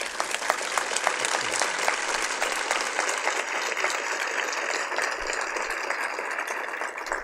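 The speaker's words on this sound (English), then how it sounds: "I'm just gonna ask you for a big round of applause for Alfredo Castro" Steady audience applause for actor Alfredo Castro, one of a film's lead cast, at a screening event; dense even clapping fills the room throughout with no break.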